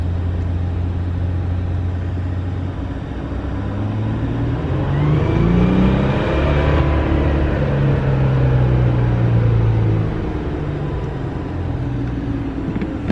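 A Ram EcoDiesel engine on a dyno in fourth gear, a loud, close diesel drone that climbs steadily in pitch as it revs up, peaks, then winds back down with a whirring tone.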